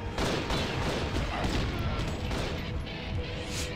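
Sustained heavy gunfire from a Judge Dredd: Dredd vs. Death game session, a dense, continuous barrage with booming low end that stays loud and unbroken across the whole stretch.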